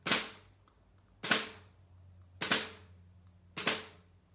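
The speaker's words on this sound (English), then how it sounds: "that's what we call a flam" Drum flam rudiment played with sticks: four sharp crisp hits spaced about a second apart, each a grace note landing just before the main stroke, fairly quiet and close with short decays.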